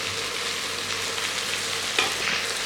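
Vegetables sizzle and fry in an electric cooker for a veg pulav, a steady close hiss with a brief stir or scrape near the end and no talking.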